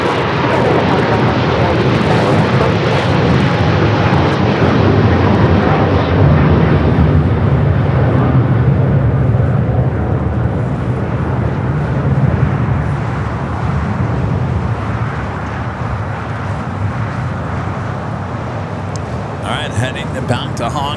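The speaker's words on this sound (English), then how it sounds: "Boeing 737 touching down, wind 240 at 12" A Boeing 737 jet touches down on runway 25L at Los Angeles International in a 240-degree wind at 12 knots, a heavy steady engine rumble gradually easing, overlaid by near-continuous radio chatter and voices.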